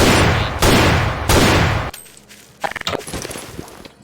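Shotgun from the Nathan Industries addon in Garry's Mod firing two loud, booming blasts about a second apart, followed by quieter mechanical clicks and clattering handling sounds.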